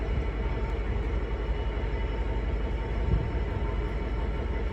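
A freight train rolls through a station on the East Coast Main Line at Peterborough, giving a steady, continuous rumble and rail noise that holds at an even level, fairly close, with no voices.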